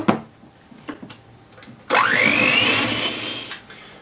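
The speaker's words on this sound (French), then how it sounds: "on va prendre nos 40 g de sucre et on va les ajouter par-dessus nos blancs en neige et on va rebattre le tout de nouveau" After a few light clinks, an electric mixer starts up with a sudden loud whir and climbing pitch, steadily beating egg whites with sugar for chocolate-coffee mousse before easing off.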